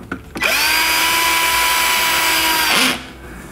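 A power screwdriver whirs steadily for about two and a half seconds, driving a short screw into the plastic of a KitchenAid dishwasher door under repair, close and loud with a sharp start and stop.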